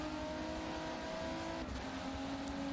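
A race car engine drones steadily in a sim racing game at Sebring, a faint, constant buzzing whine with a slight shift in pitch partway through and no voices over it.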